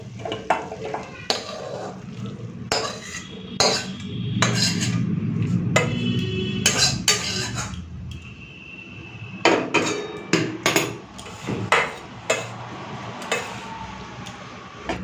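Metal spoon clinks and scrapes against a pan as cooked gourd-leaf chorchori is served out, a series of sharp close taps and scraping strokes with brief talk in between.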